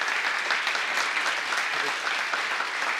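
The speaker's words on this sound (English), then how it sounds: "Let's have a big round of applause for Chris" Conference audience applauding a speaker, Chris, a VP of design at Northwestern Mutual: sustained, even clapping from a sizeable crowd, loud and continuous throughout with no talk over it.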